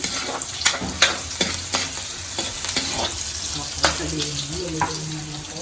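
Onion and garlic sauté in hot oil in a pan for laing, a steady sizzle broken by several sharp clinks and scrapes of a spatula stirring against the pan.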